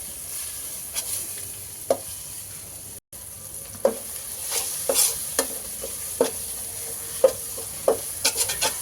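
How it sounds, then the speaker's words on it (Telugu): Chutney leaves fry in a little oil in a pan, giving a low steady sizzle broken by repeated scraping strokes of a spoon or spatula stirring at irregular intervals. "కొంచెం నూనె వేసుకుని వేయించుకుంటే బాగుంటుంది"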